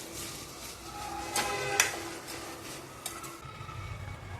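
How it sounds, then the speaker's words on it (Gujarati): Green corn chevda with garam masala being stirred in a pan, with soft scraping, a few clinks of the spoon and a quiet sizzle underneath. "પછી બધું આપણે હલાવી નાખીશું."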